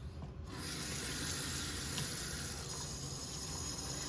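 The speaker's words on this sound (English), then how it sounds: "you can just kind of use this to like rub some of those clumps off" A toothbrush scrubs clumps off a silicone mold, making a steady close rubbing and brushing sound with a faint watery hiss and no pauses.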